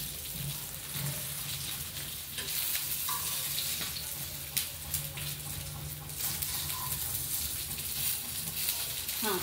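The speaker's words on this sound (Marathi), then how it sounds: "अशा प्रकारे आपण आता सगळे फिश तळून घेऊया" Fish fries in hot oil with a steady close sizzle and crackle throughout, punctuated by occasional sharper pops and light utensil scrapes.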